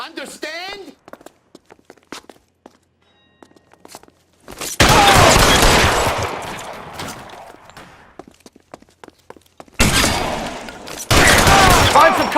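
Gunfight in the video game L.A. Noire: loud bursts of sustained gunfire and impacts erupt after a quiet stretch with scattered footsteps and thuds, then return in a second heavy volley, with voices talking in between.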